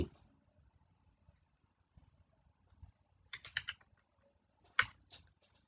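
Computer keyboard typing in short bursts of key clicks, a quick cluster in the middle and another near the end, fairly close and moderately loud, with faint background noise and no speech.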